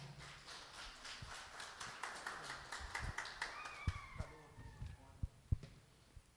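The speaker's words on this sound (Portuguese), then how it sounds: "vamos receber o homem de Deus aplaudindo o Senhor Jesus" A church congregation claps, beginning in a steady rhythm that breaks into scattered, uneven claps as it fades out, with a voice briefly heard.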